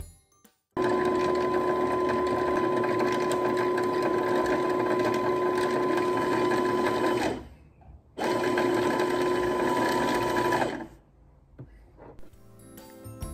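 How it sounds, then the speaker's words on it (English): A sewing machine runs steadily close by while stitching a shirt's button straps to the front panel, a loud continuous hum in two long runs broken by a short pause, then stopping. "This is me locking up the stitches that connects the button straps and the front panel."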